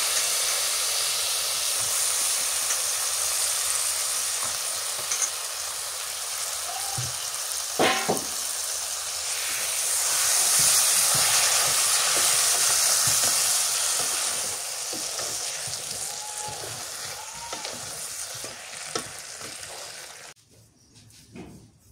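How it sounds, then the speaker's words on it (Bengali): Beef pieces hit a hot pan of cooked-down spices, raising a loud, continuous steamy hiss with a few utensil knocks, swelling midway and then dying off abruptly at the end. "এবার মাংসগুলো দিয়ে দিই।"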